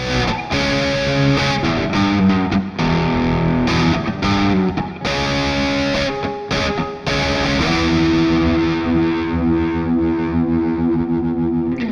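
Distorted Stratocaster electric guitar with a bright, glassy single-coil tone, choppy chords and riffs with brief gaps, then a sustained ringing passage.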